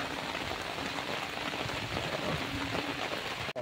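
Steady rain falls outdoors during a pumpkin flower harvest, a dense, even hiss of drops on surfaces that runs without pause, close and constant.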